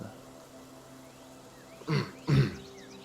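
Two short, throaty coughs in quick succession, fairly close, breaking an otherwise quiet room.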